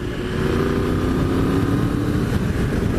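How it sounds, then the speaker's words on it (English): A Triumph Tiger 1200 GT Pro motorcycle engine with standard exhaust idles with a steady low burble, fairly close and continuous, no voices over it. "It's got that little bit of a burble."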